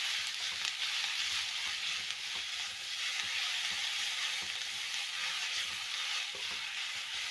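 Sliced onions for beef curry sautéing in a pan, a continuous soft sizzle with faint stirring scrapes, fairly quiet and steady with no talking.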